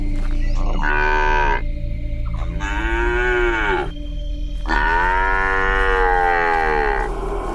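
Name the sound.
calf mooing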